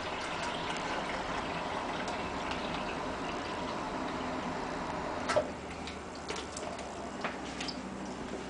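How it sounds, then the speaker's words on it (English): Water pours steadily into a 2-liter plastic bottle, a soft continuous trickle with a few small clicks and taps near the end, fairly faint and close. "you'll take your 2-liter and fill it up with water"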